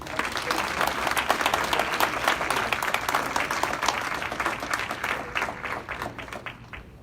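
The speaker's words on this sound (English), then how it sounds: "Please, a big round of applause for Bradley." Audience at a Class of 30 and under celebration applauds an honoree, a dense steady round of clapping throughout that thins slightly toward the end, with a few scattered voices underneath.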